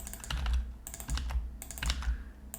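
Close, crisp typing on a computer keyboard, with irregular bursts of key clicks and short pauses between them, heard on its own during a programming session.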